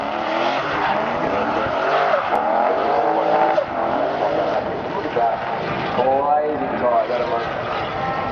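A drift car's engine roars at full throttle during a drift event, a loud continuous high-revving drone with tire noise, while a commentator talks over it.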